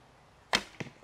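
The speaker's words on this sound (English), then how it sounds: "You could even hear the bow or the arrow bounce off that shelf on that one" A traditional bow is shot and the arrow bounces off the shelf, giving a sharp close snap followed a moment later by a second, softer knock in an otherwise quiet outdoor setting.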